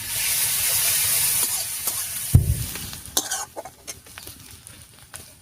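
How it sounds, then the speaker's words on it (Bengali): Onions frying in a pan of hot oil for a Bengali bitter gourd dish, a steady close sizzle and hiss with occasional stirring scrapes and a sharp spatula clatter partway through. "পেঁয়াজটা বেশ লাল লাল করে ভেজে নিয়েছি"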